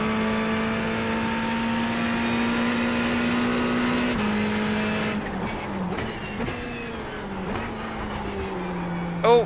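A fixed-setup Ferrari race car in iRacing accelerates around Laguna Seca, its engine holding a steady high whine that climbs and shifts through gears, with a brief burst of louder revving at the end.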